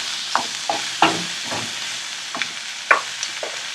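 Whole garam masala spices (cinnamon, cardamom, cloves and a broken dried bay leaf) sizzle in hot oil for a spinach and soyabean pulao, with a steady frying hiss broken by several sharp stirring scrapes and crackles.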